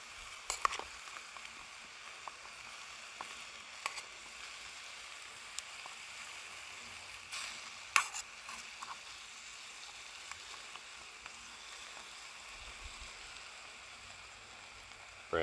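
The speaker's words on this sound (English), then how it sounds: "you can already hear that sizzling, so it's starting to cook already" Food sizzles in a pot over a homemade wicking stove, a steady soft crackling hiss running throughout with scattered small pops, faint and continuous with no talking.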